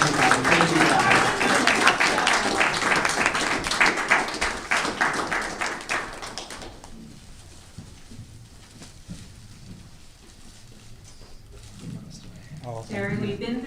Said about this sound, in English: do a nice little round of applause for that